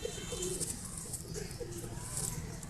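Pigeons in a home loft give soft, repeated low coos amid a faint background hum, heard nearby at modest volume without speech.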